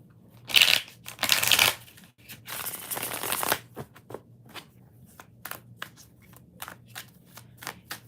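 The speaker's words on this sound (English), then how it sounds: "One more shuffle." Tarot cards are shuffled by hand, with a few brisk riffling bursts close by, followed by lighter scattered taps and flicks as the deck is squared.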